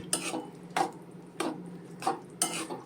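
A spoon stirs curd into okra cooking in a pan, giving five evenly spaced scraping clinks against the metal, close and fairly quiet, with no one speaking.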